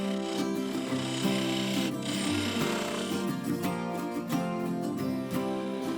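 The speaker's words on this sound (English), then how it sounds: "I went back to the skew to do the shaping." A skew chisel shaping a segmented wooden egg spinning on a lathe gives a steady, close scraping rasp with a constant tonal hum underneath, continuous for the whole stretch with no voices.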